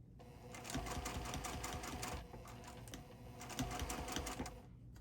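A sewing machine stitches quilt binding in a steady, fast mechanical rattle that runs nearly unbroken, with brief slowdowns around the middle and a close, fairly loud presence.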